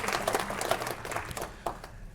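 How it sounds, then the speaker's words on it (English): A room full of people clapping for a panel of court judges at a community event, a brisk, steady patter of hands over about two seconds with a few louder claps standing out. "you can give them a round of applause"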